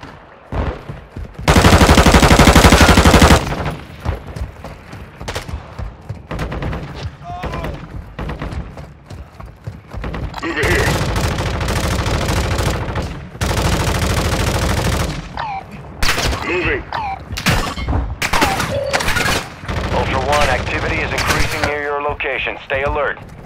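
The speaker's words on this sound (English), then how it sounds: "Taking effective fire!" Gunfire in the video game Call of Duty Warzone 2.0 DMZ mode, loud automatic bursts and rapid single shots in clustered volleys with pauses, mixed with game voice callouts and speech.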